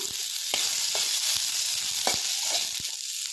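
Ginger and a chopped large onion frying together in a pan, a bright steady sizzle close by, punctuated by several sharp taps and scrapes of a spatula stirring.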